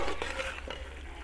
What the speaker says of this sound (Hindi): चम्मच को इस मौके पे बराबर हिलाते रहना है ताकि मसाला हमारा जले ना।